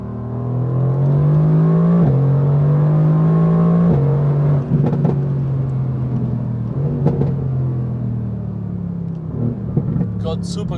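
A Mercedes-AMG GT R accelerates hard from inside the cabin, its engine a loud, continuous rising roar that eases and builds again through gear changes.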